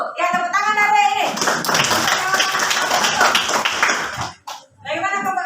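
An elementary school class claps for group 1 after their presentation, a burst of hand clapping mixed with children's voices, with talking before and after the applause.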